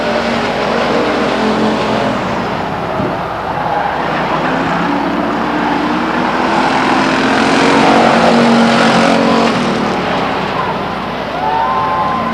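Race cars lap Stockton 99 Speedway, their engines a loud continuous roar that swells and fades as the pack circles, with revving and passing sweeps layered over a busy track background and no clear talk.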